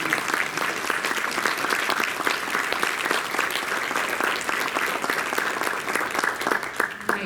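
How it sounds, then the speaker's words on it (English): An audience at a fall 2025 membership meeting gives sustained applause, dense steady clapping at even loudness from start to finish with no voices standing out. "But please give a round of applause"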